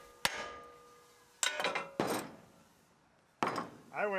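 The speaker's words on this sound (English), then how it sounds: "But this hammer will do it." Several sharp metallic hammer strikes knocking out a lower ball joint on a 2019 GMC Sierra Denali, close and loud, spaced irregularly with ringing decay between blows, followed by a brief voice.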